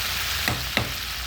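Potatoes with chili powder and turmeric fry in oil in a wok, a dense continuous sizzle broken by two short scraping strokes of a stirring spoon, close and steady, with no talk.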